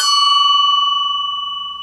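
A tapped silver object rings out with a single clear bell-like tone that sustains and slowly fades.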